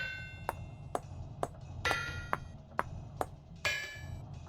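Hammer striking a chisel while crafting in the survival game Vintage Story, a series of sharp metallic taps at an uneven pace, about nine blows, over a quiet low background.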